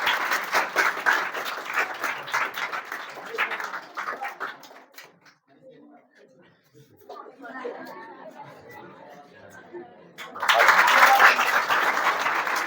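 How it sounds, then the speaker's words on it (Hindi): An audience at a school gathering applauds to welcome students, with bursts of dense clapping at the start and again near the end, separated by a quieter stretch of murmuring chatter. "सभी लोग ताली से स्वागत कर रहे हैं"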